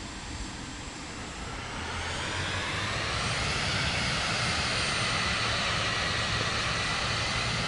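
Airplane engine spooling up and droning steadily while taxiing in Microsoft Flight Simulator 2024, a loud continuous whine and rumble that rises in the first seconds and then holds, with no talking.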